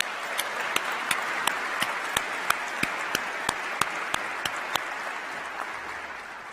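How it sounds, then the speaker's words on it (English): Sustained applause from an inauguration audience for elected officials and county leaders, a steady dense wash of clapping with a few sharper individual claps standing out, holding throughout before thinning slightly at the end. "please join me in giving all our elected officials and county leaders another round of applause"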